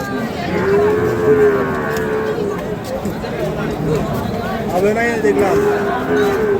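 Large bulls and cattle at the Ambari cattle market, kept for Qurbani, moo loudly and repeatedly amid a chattering crowd, with someone speaking throughout.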